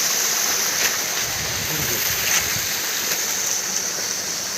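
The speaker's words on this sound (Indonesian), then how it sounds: "Inilah penampakan dari air terjun Aihnuak tuh." The Aihnuak waterfall, a dense, continuous rushing roar of falling water heard close and steady for the whole stretch.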